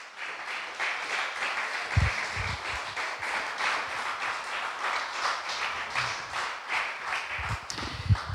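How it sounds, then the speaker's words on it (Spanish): A church congregation applauding during a Sunday family service, a steady wash of many hands clapping for several seconds at moderate distance, with no talking over it. "Dale un fuerte aplauso a la palabra de Dios."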